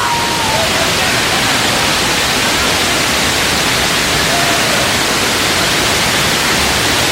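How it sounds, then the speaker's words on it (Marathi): A loud, continuous roar of rushing water from the nearby Savdav waterfall in Kankavli, Sindhudurg, fills the whole clip, steady and broadband. "फायनली आपण धबधब्याच्या जवळ आहोत"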